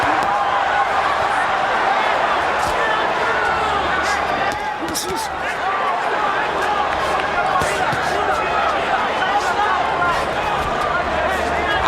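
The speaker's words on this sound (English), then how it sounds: "Crowd chanting for Vargas." Boxing crowd chanting for Fernando Vargas: a dense, steady roar of a large arena crowd with rhythmic chanting and scattered sharp thumps, loud and continuous throughout, with a commentator talking over it.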